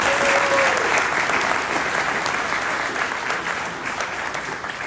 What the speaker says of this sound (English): I'd like to take a second just to offer those folks a round of applause.